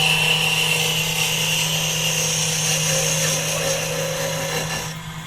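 A wood lathe spins a pen blank while a hand-held turning tool rubs and scrapes it round into a cylinder, giving a steady close-up rasping hum with a constant motor drone that fades slightly at the end.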